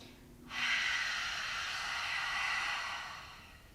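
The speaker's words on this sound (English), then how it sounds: "Close your eyes and take a cleansing breath" A single long, steady breath, likely an exhale, is taken during a slow flow yoga session, a close, airy rush lasting about three seconds before fading.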